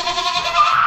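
Goats bleat in a village, a single sustained nasal cry held near and loud with no talk over it.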